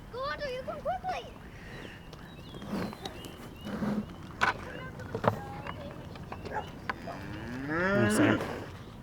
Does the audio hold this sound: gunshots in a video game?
no